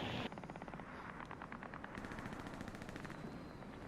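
Automatic weapons fire in rapid bursts in the World War II shooter Hell Let Loose, with repeated machine-gun rattles and single shots, fairly faint and distant throughout.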